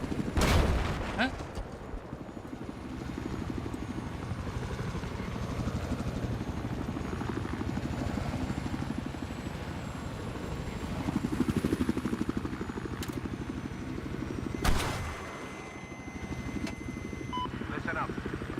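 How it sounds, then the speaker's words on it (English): Video game combat scene where an enemy helicopter drones steadily throughout, with scattered bursts of gunfire and a couple of sharp blasts, and a voice speaking over it. "Enemy helicopter east of your current position."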